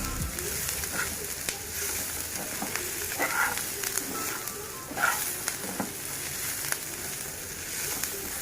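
Spices and other masala ingredients dry-roasting together in a pan for an Agri-style stuffed crab curry give a steady, close sizzle with faint stirring scrapes throughout.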